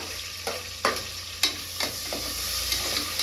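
Green chillies and onions frying in hot oil in a pan: a steady hiss of sizzling with several sharp clacks and scrapes of a stirring utensil, close and moderately loud.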